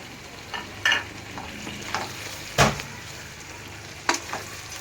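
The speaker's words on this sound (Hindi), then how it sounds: "इसको बस हमने चंद मिनट के लिए हल्का सा इसको भूनना है" Eggplant and boiled potatoes sizzle softly in a pan while a spoon scrapes and stirs a few times, the stirring strokes coming as separate close scrapes over a low steady fry, with no talking.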